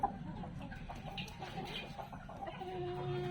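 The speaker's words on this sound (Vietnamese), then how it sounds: "Gà tơ mới lớn." A young Peru-type chicken gives a few soft, close clucks in quick succession against a quiet background.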